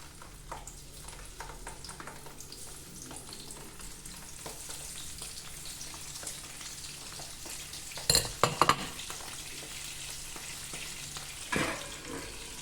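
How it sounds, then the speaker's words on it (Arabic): Tunisian kefteji ingredients frying in hot oil, a steady crackling sizzle throughout with occasional stirring and a few sharp metallic clatters of utensils against the pan near the end. "ونحطو توا يتقلى بسم الله"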